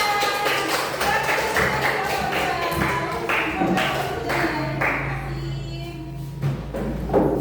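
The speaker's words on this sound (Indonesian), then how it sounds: "Oke, tepuk tangan" A fourth-grade class claps together in a busy, rhythmic burst of many hands, close and sustained, with children's voices rising over the clapping toward the end.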